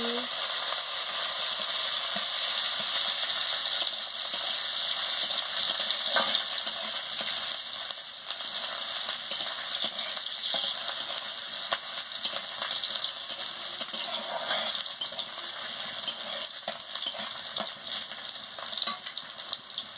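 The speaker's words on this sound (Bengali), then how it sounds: "তেল গরম হয়ে গেছে আমি পেঁয়াজ কুচিটা দিয়ে দিচ্ছি দিয়ে ভালো করে ভেজে নিচ্ছি" Chopped onion fries in hot oil for a Bengali banana-flower (kola mocha) chorchori: a steady, loud sizzle and crackle that holds throughout, with occasional stirring clicks and no voices.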